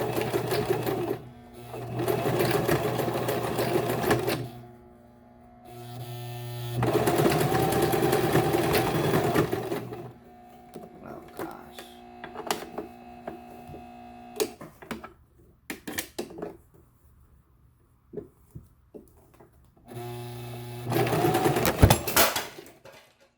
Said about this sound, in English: Now this video is just going to be about sewing on the sewing machine.